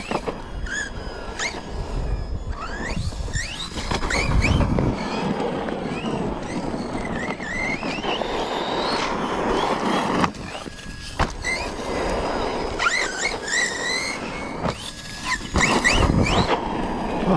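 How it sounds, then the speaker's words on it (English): A Team Associated Rival MT8 RC monster truck runs nearby, its motor whining and squealing in rising and falling bursts with tire scrabble and knocks, continuous and fairly loud. "I just want to kind of keep enjoying running the truck"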